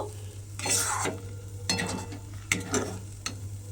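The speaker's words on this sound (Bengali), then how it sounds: "ততক্ষণ পর্যন্ত কিন্তু এইভাবে নেড়ে নেড়ে আমি একটু শুকনো করে একটা ড্রোয়ের মতো তৈরি করে নেব" A spoon works grated potato and semolina dough around a wok, giving soft scraping strokes and occasional clinks against the metal over a faint background hum, close by and fairly quiet.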